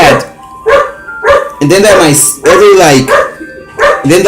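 A dog barks repeatedly at close range, loud sharp barks in irregular bursts with short gaps, some sounding strained and whiny.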